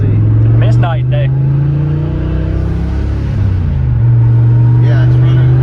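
A 1993 Ford Mustang Cobra turbo Foxbody engine idling nearby with a deep, steady, loud drone that dips briefly and settles back, while people talk over it.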